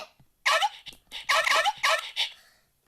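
A cartoon dog in the Toca Life video game barks and whimpers in a handful of short, bright, yappy bursts, loud and close, with brief pauses between them.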